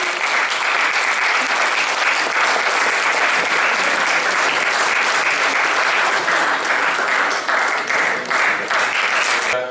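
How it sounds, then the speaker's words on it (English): Audience at a veterinary zonal conference in Ranchi breaks into loud, dense, sustained applause, a continuous roar of many hands clapping close and even from start to finish. "A huge round of applause, ladies and gentlemen."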